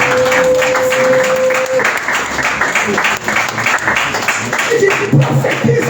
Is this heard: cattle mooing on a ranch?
no